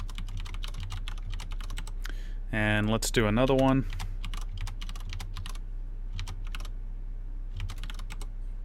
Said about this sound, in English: I'm going to start by typing in a fake MAC address